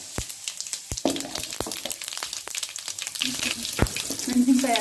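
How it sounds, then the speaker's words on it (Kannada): Mustard and cumin seeds crackle and sizzle in hot oil in a pan for bisibele bath, with scattered sharp pops over a steady frying hiss close by. "ಎಣ್ಣೆ ಕಾದಿದೆ. ಸಾಸಿವೆ ಮತ್ತು ಜೀರಿಗೆ ಹಾಕ್ತಾ ಇದ್ದೀನಿ."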